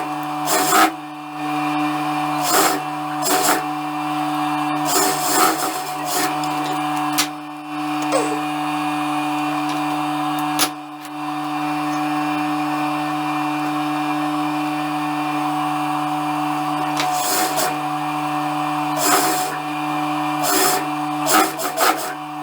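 A sewing machine runs steadily, stitching the side seams of an eyelet-fabric blouse with a sustained motor hum, broken by intermittent bursts of louder rattling.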